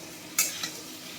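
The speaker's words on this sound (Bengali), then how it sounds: "এদিকে আমি পটল ভাজছি।" Sliced pointed gourd (potol) sizzles in a pan with a constant soft hiss and one sharp spatter or scrape near the start, all brief and close.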